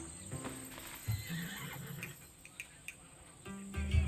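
A horse whinnies and snorts among scattered hoof clops, with a few sharp ticks and knocks in a game-style soundscape from Assassin's Creed Odyssey.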